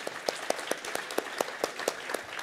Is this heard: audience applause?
yes